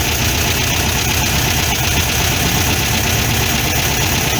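A Volkswagen Beetle air-cooled engine idles on dual Solex 32 PDSI carburetors, a loud, steady mechanical chug with a fast even pulse and constant rumble, close up and uninterrupted.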